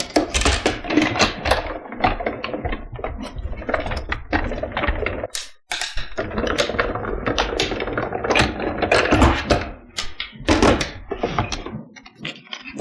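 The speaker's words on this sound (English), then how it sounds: "I'm going to tape that down, run it through my die machine," A manual die-cutting machine crunches a stamp die through a cardstock panel, giving a steady run of loud mechanical clacks and thunks with one brief pause midway, heard on its own without talk.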